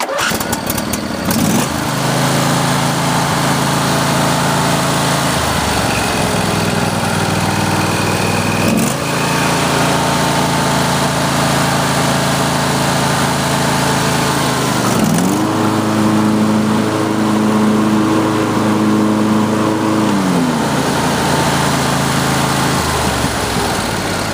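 A Sears riding lawn tractor's small engine cranks and catches, then runs at a loud, steady idle with a few shifts in revving; no voices.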